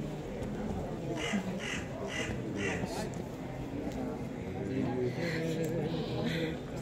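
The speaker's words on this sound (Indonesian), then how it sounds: "Burung gagak banyak di sini, saudara." A flock of crows gathered in a chilly outdoor area keeps cawing in a loose, repeated series of rasping calls at middle distance, while people talk and move around nearby.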